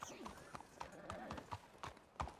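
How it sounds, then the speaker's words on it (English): Horses clip-clop in the video game Red Dead Redemption 2 on a WildRP server, a steady run of hoofbeats at moderate distance, with talk mixed in beneath them. "Oh my god, what is up with all these horses?"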